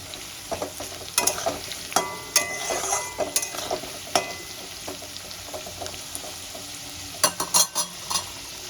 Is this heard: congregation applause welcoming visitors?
no